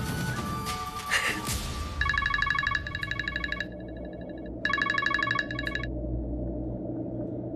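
A phone ringing on a call to a lawyer, two bursts of electronic ringtone trill separated by a pause, heard after a louder rustling passage at the start.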